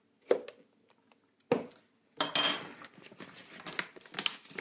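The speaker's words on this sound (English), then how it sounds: "I'm going to put some Brazil nuts in my mixture." Five Brazil nuts dropped into a raw smoothie mixture, a few sharp clinks against a glass container, then a denser run of clattering and rattling, close and fairly quiet.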